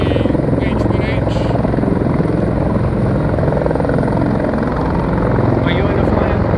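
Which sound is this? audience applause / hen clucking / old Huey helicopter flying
old Huey helicopter flying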